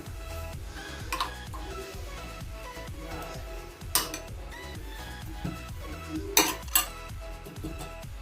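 A spoon clinks against a bowl and a plate while spreading marinade over scored fish, with soft scrapes throughout and two or three sharper metallic taps, close by and without talk.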